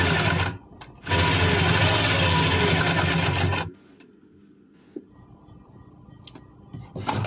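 A sewing machine running lock stitches on kurti fabric, a loud continuous mechanical whirr in two bursts separated by a short pause, followed by quieter handling clicks.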